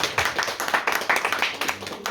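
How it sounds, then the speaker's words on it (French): Audience applause for an 11-year-old author at a young authors' literary conference, steady dense clapping from a small crowd, moderately close, with a faint voice underneath. "qu'on peut applaudir encore une fois"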